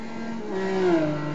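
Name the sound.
Ferrari F550 engine accelerating at Nurburgring in a racing video game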